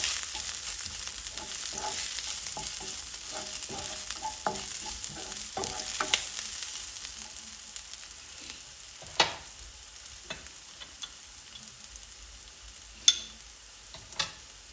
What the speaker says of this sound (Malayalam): വെന്ത് കഴിയുമ്പം ഞാൻ അതിനകത്തേക്ക് കുറച്ച് ഫ്രഷ് ആയിട്ടുള്ള കറി ലീഫ് ചേർത്ത് കൊടുത്തു